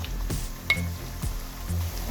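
Half a kilo of beef mince going into a hot pan with crushed ginger and garlic for keema, a steady sizzle broken by soft stirring thumps and one bright metallic clink.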